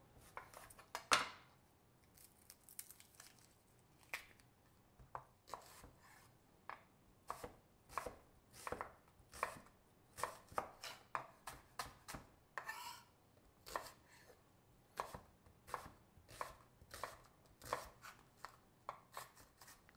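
A knife chops onions for lentil soup on a cutting board, a steady run of crisp, close knocks with small pauses between.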